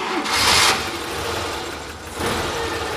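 Engine of a 2002 Suzuki Carry 1.0 pickup being started: a hissing burst of cranking, a lull of running noise, then a second surge as the motor catches and keeps turning over nearby.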